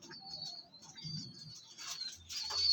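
Pigeons call with soft coos and chirps at a distance, faint and intermittent over a quiet outdoor background, with light wing sounds.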